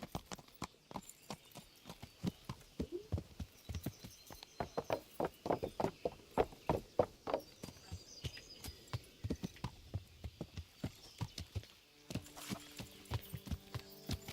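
Horse hooves clip-clop in a steady walking rhythm in Kingdom Come: Deliverance, a run of clear close hoofbeats that briefly quickens, with a low rumble near the end.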